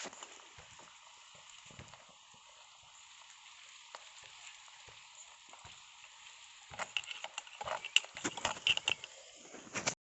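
Onions frying in a pan for an egg masala gravy, a faint steady sizzle with soft scraping, then louder clattering stirring strokes near the end.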